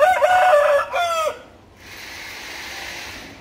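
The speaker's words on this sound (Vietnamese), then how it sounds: "gáy to quá" A rooster crows loudly and close by in one long call that trails off, then quiet background hiss remains.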